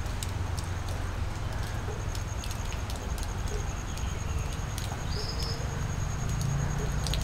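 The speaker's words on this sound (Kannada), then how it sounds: "ಮಳೆ ಆಗ್ತಾ ಇದೆ." Monsoon rain falling steadily in Maharashtra, a dense unbroken hiss and patter throughout, with insects chirping faintly in a high thin tone behind it.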